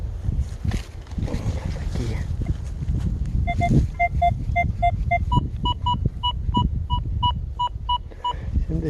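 A Gauss MD metal detector gives a clear beeping signal tone over a find in forest undergrowth: a steady run of short, evenly spaced beeps that steps up to a higher pitch, heard over rustling, footsteps and low background noise.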